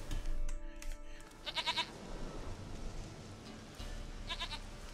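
A goat in The Witcher 3 video game bleats twice in short nasal calls, one early and one near the end, over a low ambient game background, with no talking.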